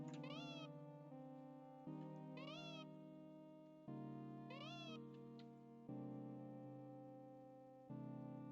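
In a video game fangame, a cat meows in bright, repeated meows over a steady looping musical tone, several times at roughly two-second intervals.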